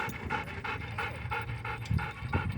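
A dog pants at a dog park, quick rhythmic breaths repeating about every third of a second, close and fairly loud with no talking.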